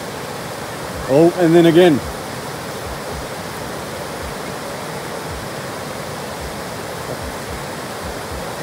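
Steady broadband rush of a river flowing, continuous and close, while someone wades across; a brief voice cuts in near the start.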